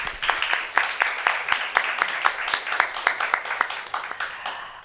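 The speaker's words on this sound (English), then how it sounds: "So I want to give a round of applause for everyone who like helped to deliver this hackathon" A room of hackathon participants at the NASA Space Apps Challenge in Zurich gives a round of applause for the helpers and volunteers, dense rhythmic clapping that stays strong throughout before easing slightly at the end.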